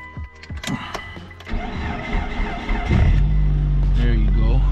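An all-wheel-drive wagon with a smashed door, not run in a while, cranks and its engine fires, settling into a steady loud idle up close, with someone speaking at the start.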